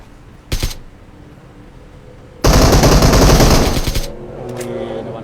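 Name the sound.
gunfire in a battle royale video game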